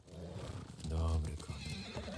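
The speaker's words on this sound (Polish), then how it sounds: "Dobry koń." A horse in the video game Ghost of Tsushima gives a clear whinny with the clip-clop of hooves underneath, moderately close, while a voice talks over it.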